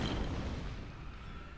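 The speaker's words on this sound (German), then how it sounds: "Das Ding hier ist anscheinend auch so eine Kanone." A cannon fires in the video game Lego Star Wars III: The Clone Wars, a dense booming blast with a rumbling tail that holds steady and loud for the whole moment.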